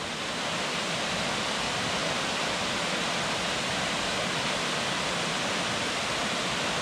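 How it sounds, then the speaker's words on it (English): Princess Falls, a large waterfall in the Big South Fork area, roars in a loud, constant broadband rush that fills the entire stretch without pause or speech. "This is Princess Falls. Definitely the biggest waterfall we've seen so far today."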